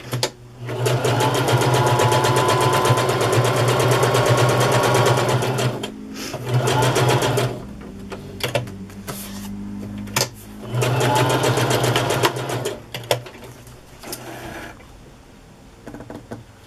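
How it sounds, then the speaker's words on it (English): A sewing machine sewing a zigzag stitch over rickrack runs in long steady bursts with a fast mechanical whir, pausing and restarting several times, close and loud. "I'll stitch right over the rickrack and get that stitched down at the same time. I'm using the zigzag stitch."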